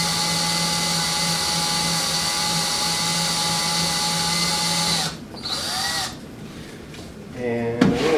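A power drill bit bores into a broken bolt with a steady, loud high-pitched whine that holds for about five seconds, then slows and stutters as the drill eases off and revs again near the end.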